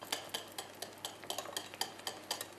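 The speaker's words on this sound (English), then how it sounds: "So this is sort of really what they call creaming." Butter and sugar being creamed by hand in a bowl for Puglian biscotti: a quick, regular series of scraping, tapping strokes of a utensil against the bowl, close and fairly faint, about five strokes a second, with no talk.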